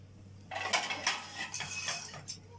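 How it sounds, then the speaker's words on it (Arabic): A plate for tuna salad is taken out and handled, giving a short run of bright clinks and clatters of ceramic and cutlery over a quiet room hum, close and moderately loud. "هنجيب بقى الطبق نحط فيه كل الحاجات الجميلة دي"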